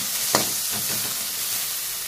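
Fried onion and crushed garlic being stirred in a hot pan, a steady sizzle with a sharp scrape of the spoon near the start and softer stirring strokes after, close and alone.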